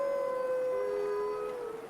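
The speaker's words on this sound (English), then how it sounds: "Those wolves are gonna drive me nuts." Wolves howl in Assassin's Creed Valhalla, a long sustained wavering howl with a second voice joining, clear and unbroken over a quiet background without talk.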